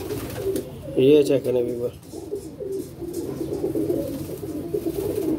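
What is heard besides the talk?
pigeons cooing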